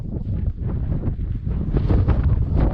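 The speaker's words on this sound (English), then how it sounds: "Sorry about all the wind" Wind gusts at a tent campsite, buffeting the microphone with a loud, low rumbling roar that swells toward the end, with no talking.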